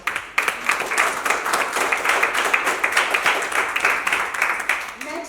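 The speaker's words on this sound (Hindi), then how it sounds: "So again, a very big round of applause." An audience claps at a women's entrepreneurship celebration, producing steady, dense applause that pulses slightly in intensity over several seconds, with possible voices beneath the clapping.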